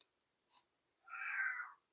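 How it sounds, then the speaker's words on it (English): A pet cat gives one long, drawn-out meow close by, preceded by a faint short chirp, in an otherwise quiet indoor room with a thin steady whine. "I don't know if you can hear my cat"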